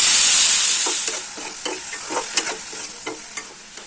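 Paneer frying in a little oil in a pan while being stirred, a loud close sizzle that fades gradually, with soft scraping stir strokes, no voices.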